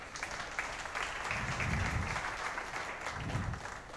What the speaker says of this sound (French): C'est pas rien, on peut applaudir ça.